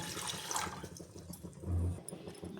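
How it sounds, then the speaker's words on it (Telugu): Water splashes and pours steadily into a metal pan, a short close-up gush with a low hollow rumble partway through. "వాటర్ వేసుకోవాలండి"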